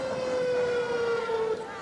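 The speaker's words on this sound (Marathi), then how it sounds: "आपला जो सायरन आहे तो कमी जास्त आवाजात 2 मिनिटं वाजतो" A civil defence air raid siren sounds during a civil defence day drill: a steady, sustained wailing tone that drifts slightly lower, heard from moderate distance without a break.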